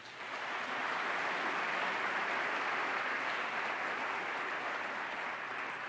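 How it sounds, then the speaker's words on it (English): A round of applause from a symposium audience at the close of an event, a broad, even wash of many people clapping that rises quickly and holds steady throughout without voices. "please express a round of applause."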